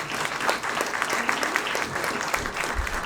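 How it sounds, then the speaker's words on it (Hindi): Audience applause at a book release ceremony, a steady burst of clapping from a crowd filling the room for about three seconds. "मैं चाहता हूँ एक बार जोरदार ताली से इनका"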